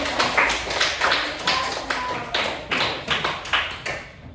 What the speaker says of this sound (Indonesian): Beri tepuk tangan untuk Mas Kenzi